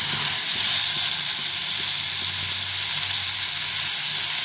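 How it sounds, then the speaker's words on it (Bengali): Rohu fish tail frying in hot oil, a loud, dense and continuous sizzle with crackling spatter close up, no talking. "তেলটাই গরম করে নিতে হবে ভালো করে। এখন আমি মাছটা এখানে দিয়ে দিব।"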